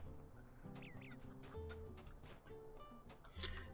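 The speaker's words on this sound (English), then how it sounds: "that rooster's still trying to find us as well, so we need to make sure he doesn't spot us" A rooster in the video game Lord of the Rings Online (LOTRO) lets out a few short clucks amid soft game music and ambient effects, quiet and intermittent.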